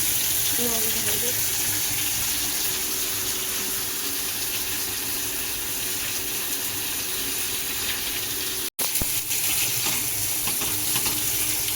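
Pomfret sautéing in a pan with kokum and salt makes a continuous, fairly loud sizzle and hiss, with a brief sharp knock near the end.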